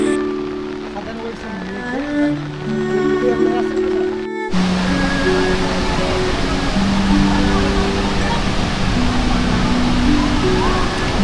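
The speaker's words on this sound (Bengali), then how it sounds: "আপনার যে ঝর্ণাটি দেখছেন সংগ্রামপুঞ্জি ঝর্ণা, স্থানীয় নাম মায়াবী ঝর্ণা।" Sangrampunji (Mayabi) waterfall pours with a steady, broad rushing roar that swells in at about four seconds and continues to the end, while tonal music plays throughout.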